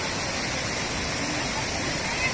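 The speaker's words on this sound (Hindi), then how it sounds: "और इस साइड का झरना देखिए," A waterfall at the Jatmayi Ghatarani temple site in Chhattisgarh pours steadily, a dense, constant broadband rush with no breaks, close and loud throughout.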